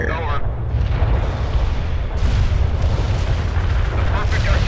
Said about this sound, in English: The perfect artillery hit.